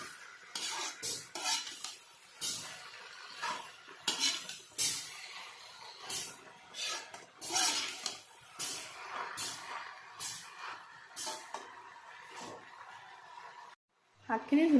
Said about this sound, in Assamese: পুৰৈ শাকখিনি দিয়াৰ পিছত এইখিনি ভালদৰে এবাৰ লৰাই ল'ব মছলাখিনিৰ লগত মিক্স হোৱাকৈ